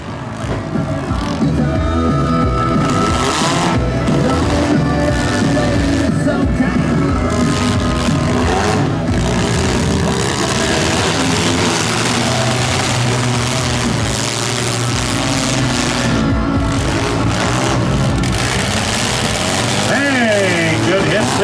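Junk cars in a demolition derby heat at Schomberg rev their engines hard and grind and bang against each other. The roar is loud and continuous, with crowd noise and an announcer talking over it.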